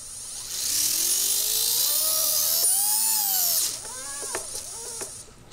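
An RC helicopter motor throttled up through its ESC gives a high, whining electric drone that rises in pitch, holds, then falls away, followed by a few short, stuttering spin-ups before it quiets.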